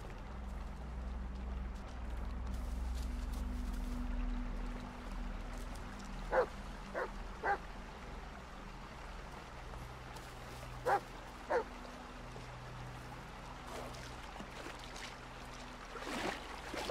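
A dog in the Blair Witch video game gives a few short, faint barks and yips spaced apart over a low steady rumble of outdoor ambience.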